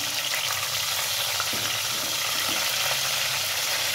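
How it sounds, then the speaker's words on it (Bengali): Bay leaves, cardamom and cinnamon frying in soybean oil produce a loud, continuous hissing sizzle with faint bubbling crackle underneath, steady and close, with no speech. "তেলটা একটু হালকা গরম হয়ে আসলে তেজপাতা, এলাচ, দারচিনি 1 মিনিট ভেজে নিব।"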